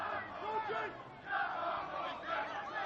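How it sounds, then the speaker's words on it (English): A sparse football crowd at Rockingham Road stadium in Kettering murmurs and calls out faintly in the distance, with a commentator speaking over it. "A pretty sparse crowd at Rockingham Road this afternoon."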